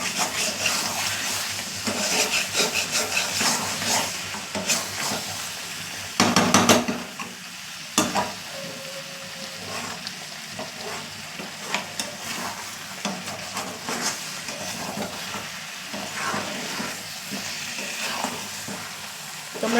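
Mutton stir-fries in oil in a pan, sizzling continuously while a spatula scrapes and stirs, with a few sharper clanks of metal against the pot and a brief faint voice.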